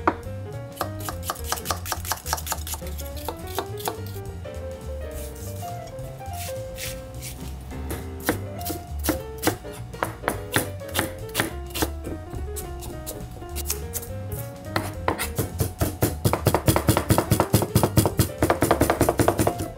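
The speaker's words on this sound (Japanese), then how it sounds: "玉ねぎ 粗みじん切りで" A kitchen knife coarsely chops onion on a cutting board for a tofu-and-chicken patty, a fast steady run of sharp close taps that thickens into dense rapid bursts toward the end, with soft background music underneath.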